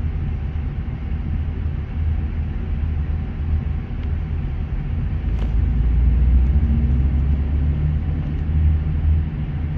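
Ford E350 van with a V10 engine idling steadily after being revved, a continuous low rumble with a slight swell partway through, close and alone with no talk.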